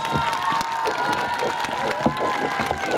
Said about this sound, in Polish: Niechaj wasze oklaski obudzą umarłych.